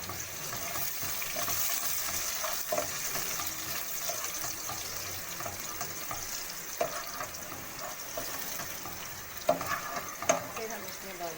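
Carrots sautéed in a pan for BBQ rice, a fairly quiet, even sizzle with occasional scrapes and knocks of a utensil, close by, no voices.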